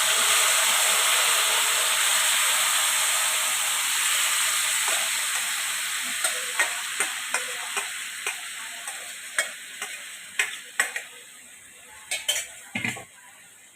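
Marinated chicken with peas hits a hot pan with a loud, steady sizzle that slowly fades, while sharp utensil clinks against the pan grow more frequent toward the end. No one speaks.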